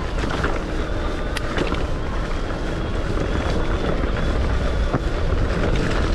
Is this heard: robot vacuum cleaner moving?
no